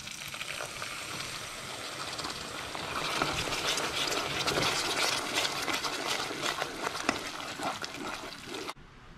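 Lemon juice hitting hot caramel just taken off the heat for a caramel flan, a continuous hissing sizzle and bubbling that swells and holds close for several seconds before cutting off.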